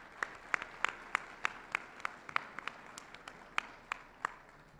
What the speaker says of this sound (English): can we also please get a big round of applause for the incredible food that we've all had a chance to sample today